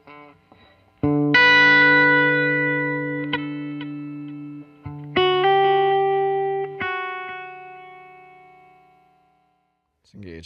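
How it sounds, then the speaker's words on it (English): Electric guitar run through a tape echo pedal on a Nashville-style pedalboard, playing sustained chords and single notes whose repeats ring out and fade over several seconds, with no talking. "we have a tape echo on here."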